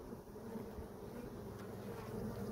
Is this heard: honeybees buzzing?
yes